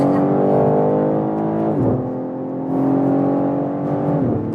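A 2024 BMW M3 Touring accelerates hard on the Autobahn, its engine note rising steadily through the gears with brief dips at each upshift, loud and close from inside the car.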